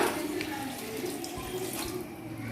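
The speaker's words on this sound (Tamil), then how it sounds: "சரி, இப்போ 2 கிளாஸ் தண்ணி சேர்த்துக்கலாம்." Water poured into mutton sukka in a cooking pot, a steady splashing pour with light bubbling, close and continuous, no talking.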